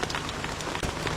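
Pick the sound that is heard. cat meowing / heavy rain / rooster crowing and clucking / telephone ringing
heavy rain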